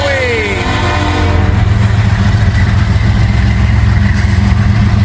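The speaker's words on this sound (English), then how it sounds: "Looks like we got a grain train here." A heavy grain train rumbles past nearby with a steady low roar, a fading horn tone at the start, and a voice faintly under the noise.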